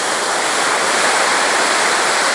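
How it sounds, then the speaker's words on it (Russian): Stormy sea on the Alanya coast in Turkey churns with seaweed and sand during a downpour, heard as a loud, unbroken roar of surf crashing steadily with no voices. "В общем, море бушует"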